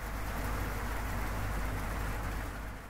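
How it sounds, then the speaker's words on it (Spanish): Steady rain hisses continuously in San Agustín, Huila, Colombia, a broad even wash of sound with a low rumble underneath and no voices. "está lloviendo"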